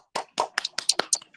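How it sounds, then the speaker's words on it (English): Hands clap in a morning radio show studio: about seven sharp, close claps in a loose, uneven rhythm, with nothing else underneath. "Okay. Clap."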